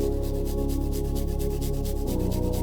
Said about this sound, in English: I'm just going to go ahead and grate it very finely so you don't get a big chunk of garlic in your mouth.